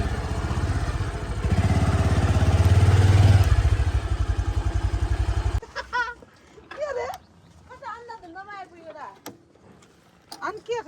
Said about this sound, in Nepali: अर्कै बाइक आउँछ त